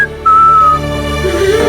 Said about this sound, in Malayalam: ഇതെന്താ ചൂളം കുത്തി കളിക്കുന്നേ?